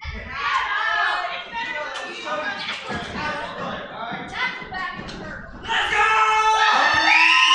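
Wrestling crowd booing Devin Reid during an I Quit match, a loud swelling mass of jeers and shouts mixed with commentary talk and scattered claps, rising again toward the end.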